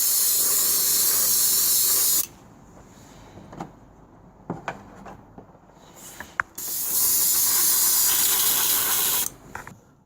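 Aerosol spray paint hissing in light coats onto a model Bell UH-1 Iroquois "Huey" helicopter: a loud steady burst of about two seconds, a quiet gap with small clicks and handling taps, then a second sustained burst lasting about three seconds.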